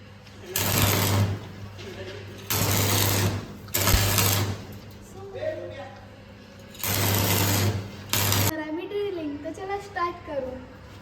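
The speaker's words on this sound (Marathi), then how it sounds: "तर पहा मी वेल्डिंग कशी करत आहे" A welding machine in operation makes four loud, buzzing bursts a second or two long, separated by pauses in which someone talks.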